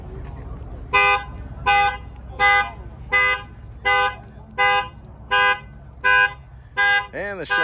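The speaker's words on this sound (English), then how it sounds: "And the Shelby, he must have put his alarm on." A Shelby's car alarm honks at a car show in about ten evenly spaced loud blasts roughly every 0.6 seconds, followed by a rising and falling whoop, over quiet outdoor background.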